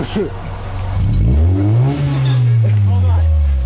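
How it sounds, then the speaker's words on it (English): A car engine revving hard close by, rising in pitch to a loud sustained roar that holds and dips slightly, with a brief voice at the start. "Alright, rev it up!"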